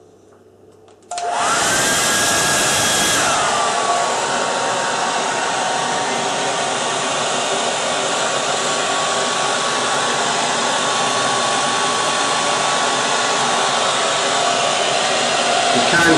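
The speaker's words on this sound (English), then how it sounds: "and then take a hairdryer to them." A hair dryer, used to dry washed airgun pellets spread flat, switches on after a second of quiet and blows steadily and loudly, with a brief higher whine early on, then an even rushing drone.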